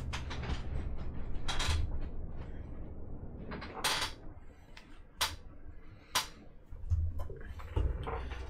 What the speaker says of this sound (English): I just wanted to close my door so it wasn't a lot of noise.